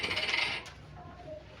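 A coin tossed and landing during a probability lesson, a short metallic jingle and ring at the start that quickly decays, followed by quiet.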